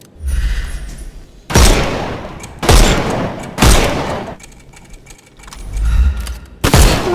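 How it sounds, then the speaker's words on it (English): Gunfire in Sherlock Holmes Chapter One: a string of loud, heavy shots and booming volleys, four or five big bursts a second or so apart, each with a rumbling tail, no talking over them. "Shoot off their armour."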